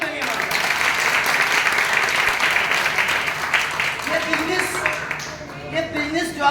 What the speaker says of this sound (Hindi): एक बार जोरदार ताली अपने लिए मारो